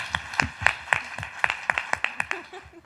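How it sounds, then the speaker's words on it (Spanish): Sparse, steady hand clapping from a small group after someone speaks at a group session, a dozen or so sharp claps in a loose rhythm, fairly close. "nos vendría bien hacerle un aplauso a la persona que acaba de hablar"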